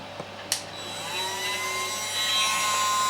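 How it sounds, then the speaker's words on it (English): A power drill whines steadily as it bores holes into the wooden frame of a 1:12 scale miniature log cabin, its pitch rising and holding after a couple of sharp knocks at the start. "So I need to drill my holes in the frame first."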